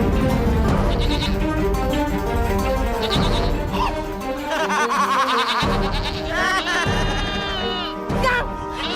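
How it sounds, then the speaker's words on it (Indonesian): Goats bleating in fear, a loud run of repeated wavering bleats from several animals in a cartoon scene, layered with frantic voices talking over them. "Kambing-kambing kita mendadak ketakutan."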